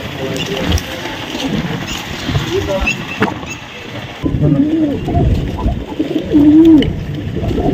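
Pigeons, including Space Seal and red Cheena breeds, coo in low throaty rolling calls on a rooftop loft, several distinct coos rising near the end amid outdoor rustle and background noise.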